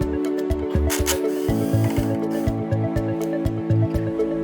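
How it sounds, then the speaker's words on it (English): Electric screwdriver or drill unscrewing cables from the grid terminals of a Bluetti EP500 power station, giving a steady motor whir broken by rhythmic ratcheting ticks, close and continuous. "Unscrew the AC-L and AC-N cables from the grid L and grid N terminals."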